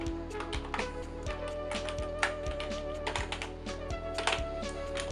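Rapid typing on a computer keyboard, with steady, closely spaced clicks and taps running the whole time at close range, with no voices.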